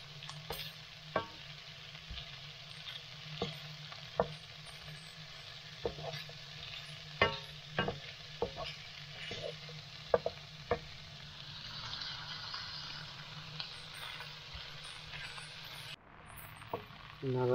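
Balls of food sizzling steadily in a frying pan, with sharp pops and crackles scattered over the continuous frying hiss and a faint low hum underneath, close and fairly quiet.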